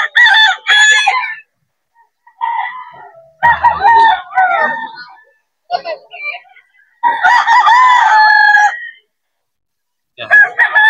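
Gamefowl roosters, hack and bullstag birds, crow loudly and repeatedly at the Bocaue pet market. The long, strained calls come in close bursts separated by short pauses.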